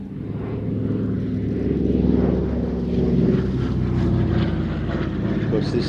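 A World War II aircraft in D-Day markings drones past at an air festival, its propeller engine a steady low rumble that swells and fades slightly, with a voice talking over it.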